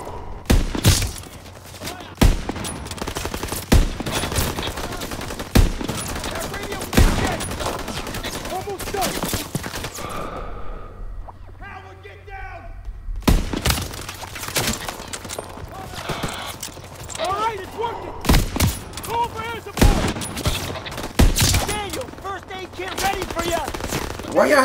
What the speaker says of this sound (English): Taking fire! Everybody taking fire. Coming from the woods.